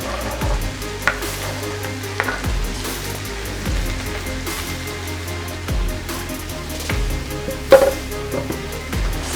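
Zucchini frying in a pan with other vegetables, a soft steady sizzle punctuated by clinks and stirring scrapes, close and moderately quiet.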